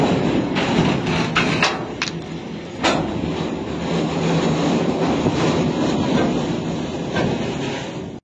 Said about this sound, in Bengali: গোঘাট স্টেশন থেকে এই মুহূর্তে সকাল 9:30টার ট্রেনটি দেখুন চলে যাচ্ছে